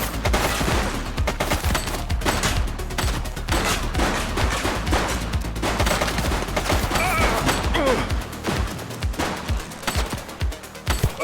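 Rapid gunfire from the police video game The Precinct crackles in dense, continuous volleys for the whole stretch, loud and overlapping, with no break in the shooting.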